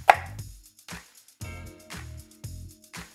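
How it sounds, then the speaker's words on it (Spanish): A knife chops an onion on a cutting board, with about six crisp, evenly spaced cuts close up and no voices. "Cortamos la cebolla por la mitad, le damos unos cortes sin llegar a esta parte de aquí."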